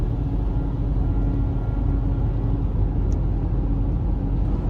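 Steady, loud low rumble from inside a moving car on the road toward Reno, constant engine and road noise with no voices.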